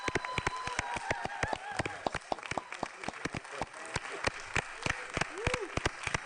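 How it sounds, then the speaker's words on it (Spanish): Scattered applause from the audience at a county commissioners meeting, with sharp, irregular claps of moderate loudness spread through the whole stretch and some faint background voices. "Aplausos, aplausos."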